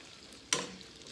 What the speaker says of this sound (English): right now, I'm just trying to brown these things out